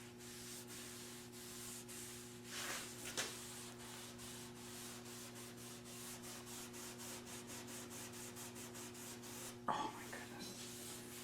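A hand rubs finish onto a wooden farmhouse table, making soft, continuous, rhythmic rubbing strokes that stay faint and even, with a low steady hum underneath.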